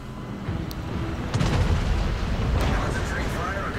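French battleship Jean Bart fires heavy shells in the naval video game World of Warships, with deep booming rumbles layered under someone talking.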